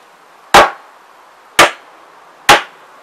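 Three sharp hammer blows drive nails into a wooden tool organiser, evenly spaced about a second apart, loud and close with quiet gaps between strikes.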